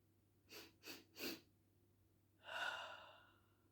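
A person demonstrates a breathing exercise up close and quietly, taking three short sharp sniffs through the nose, then after a pause letting out one longer breathy sigh.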